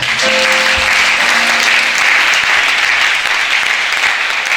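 A church congregation applauds to acclaim Jesus, a loud, dense, sustained clapping from a large crowd that carries on steadily without pause, close and filling the room.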